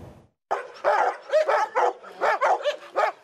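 Dogs at a home shelter bark excitedly, a close, loud run of about a dozen quick barks and yips following a brief quiet moment.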